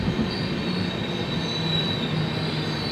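The 12258 Garib Rath Express, running from Palakkad to Yesvantpur, is making an unscheduled stop at Karmelaram station for a crossing. A steady, close rolling rumble continues throughout, with a faint wheel squeal and no voices.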